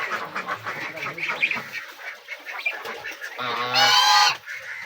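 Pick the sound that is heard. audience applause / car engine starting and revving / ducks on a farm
ducks on a farm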